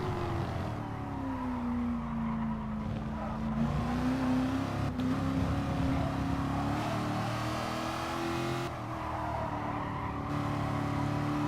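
Race cars in a sim racing game scream along the main straight. The engine note is steady and loud with a rising harmonic whine, and brief gear-change dips break it up.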